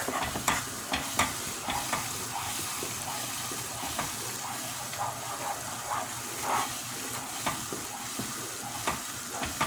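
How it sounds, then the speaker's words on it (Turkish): Sugar syrup for candy apples boils in a pot while being stirred constantly, giving a steady bubbling sizzle with regular scraping strokes of the spoon, close and alone. "kaynamaya başladı ama ben sürekli karıştırıyorum"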